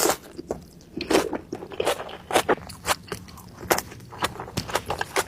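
Crispy fried food soaked in ice water beforehand, part of a mukbang, is bitten and chewed close to the mic: a rapid series of sharp, loud crunches in an irregular rhythm, with no talking.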